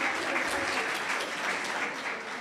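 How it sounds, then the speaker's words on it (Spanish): Audience applause at a finance research colloquium, a soft, continuous patter of many hands clapping in a hall, faint and steady throughout. "¿Quieren un aplauso?"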